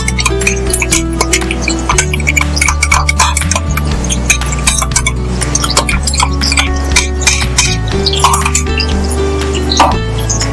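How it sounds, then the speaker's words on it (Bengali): Spices fry in a pan for chana masala while a utensil clinks steadily against the metal, sharp repeated taps over a constant background hum, with no talking. "সব মশলাগুলোকে খুব ভালো করে ভেজে নিতে হবে।"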